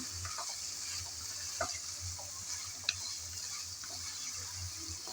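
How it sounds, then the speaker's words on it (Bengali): Spicy chicken fries in a pan with a constant soft sizzle, while occasional spatula scrapes and clinks mark the stirring. It is fairly quiet and steady, with no talk. "সময় ধরে বারবার নেড়ে চেড়ে এই ভাজাটা করে নিতে হবে।"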